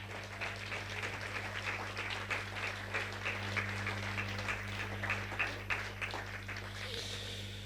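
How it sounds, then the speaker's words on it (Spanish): A church congregation applauds steadily after a call to praise, a dense wash of clapping that holds at an even level throughout with a low hum beneath. "Denle un fuerte aplauso al que vive y reina."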